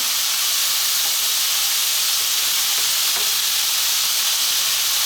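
Beef, bean sprouts and spring onion stir-frying in a pan, a steady loud broadband sizzle and hiss filling the whole stretch, with faint scraping stirs mixed in and no talk.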